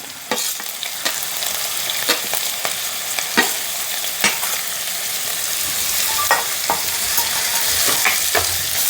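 Shallots, onion and curry leaves sizzle steadily in a hot pan for a soyabean roast, with a spoon scraping and stirring in irregular knocks over the continuous frying hiss.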